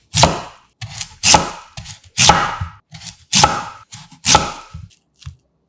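A knife cuts peeled radish into thick slices on a board, about six sharp, loud chops at a roughly even pace, each followed by a softer knock, close up with no talk.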